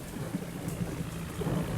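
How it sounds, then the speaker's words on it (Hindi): Steady light rain falls outdoors while a tractor hauls a heavy trolley, a soft continuous hiss with faint low rumble and no voices. "अभी बारिश तो काफ़ी धीरे हो चुकी है, तो रुक तो जानी चाहिए बारिश, पर अभी तक तो नहीं रुकी है।"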